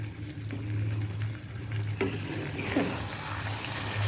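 Meat sizzles and fries in oil in a pan, a soft steady crackle with occasional stirring scrapes, quiet and close, with no talk.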